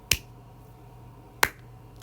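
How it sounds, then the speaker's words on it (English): Two sharp, isolated hand claps spaced about a second and a half apart, keeping a slow steady pulse during a music literacy practice lesson, close and crisp against a quiet room. "now I might even try to clap a pulse while I do that"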